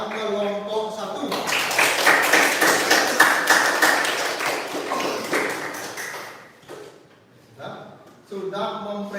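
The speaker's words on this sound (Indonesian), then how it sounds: "Tepuk tangan sekali lagi untuk kelompok 5, kelompok 3, kelompok" A classroom of students claps together for presenting groups, a dense, steady round of applause lasting several seconds before tapering off, with a teacher's voice before and after.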